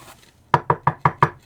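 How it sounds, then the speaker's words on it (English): Five sharp knocks on a wooden door in an even, quick rhythm, close and loud against a quiet background. "knock on the door."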